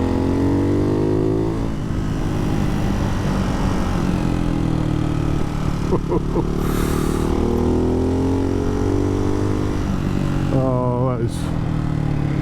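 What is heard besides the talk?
Ducati Hypermotard 698 Mono motorcycle with Termignoni exhaust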